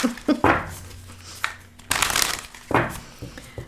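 Tarot cards are shuffled close up in several quick riffling bursts with brief pauses between them, papery flutters and soft taps, no voices.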